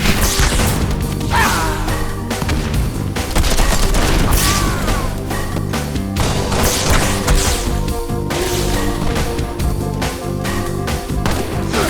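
Energy sword kills in the Halo video game play out as a dense burst of slashing, crashing and explosive game effects layered over a continuous music soundtrack.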